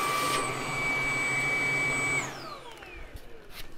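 Shark DuoClean cordless vacuum cleaner (IC160UK) running in handheld mode, a loud steady whine that spins down and fades after about two seconds, with no speech.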